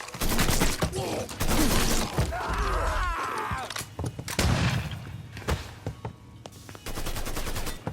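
Gunfire in the Mafia III video game: bursts of automatic rounds and single heavy shots, loud and close, mixed with thuds and game effects, with brief voices in between.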